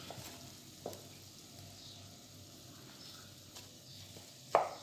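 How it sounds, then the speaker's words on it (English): Onion sizzling in a pan on the stovetop, a steady, faint frying hiss. A few soft clicks punctuate it, and one sharper knock lands near the end. "I will put it over the stove for about 7 minutes until my onion was like half cooked"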